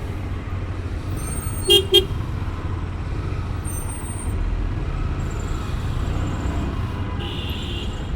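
Steady street traffic rumble in Chittagong, Bangladesh, with a couple of short car horn toots near the start and a faint hiss of brakes later.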